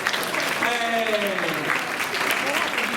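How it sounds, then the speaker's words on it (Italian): Audience applause for the contestants at the Miss Italia Veneto 2016 beauty pageant at Le Corti Venete, a steady, dense wash of clapping lasting throughout, with voices and faint tonal sounds mixed in. "allora facciamo un applauso a queste ragazze"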